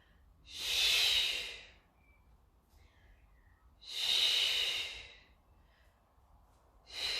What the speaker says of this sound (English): Out breath.